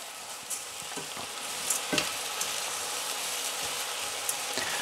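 Pearl barley and onion frying in a pan, a steady soft sizzle heard up close with occasional light scrapes and stirs, no voices.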